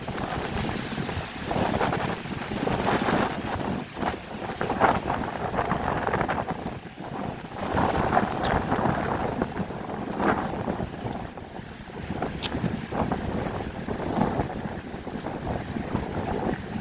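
Steady, blustery wind roars across the microphone for the whole stretch, with low rumbling gusts that rise and fall continuously.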